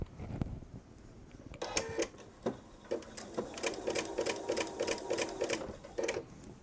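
A sewing machine stitches jelly roll quilt strips in rapid rhythmic bursts, with short pauses and clicks between runs, heard close and alone.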